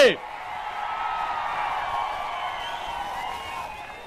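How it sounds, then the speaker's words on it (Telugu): A crowd at a political rally in Andhra Pradesh cheers and whoops steadily in a broad, distant-sounding wash of voices after a brief sharp sound at the start. "గట్టిగా మీరందరూ కూడా చప్పట్లు కూడా చెప్పండి"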